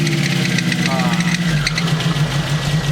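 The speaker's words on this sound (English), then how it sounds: "I got a squeaky belt." A 1977 Mitsubishi Sigma Lancer engine fitted with longtube headers idles steadily up close, with a thin squeak from a slipping belt chirping over the low rumble.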